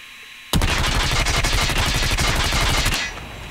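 A Maddox rifle fires one sustained, loud automatic burst of about two and a half seconds in Call of Duty Mobile, rapid evenly spaced shots starting abruptly after a short quiet moment and cutting off into a fading tail.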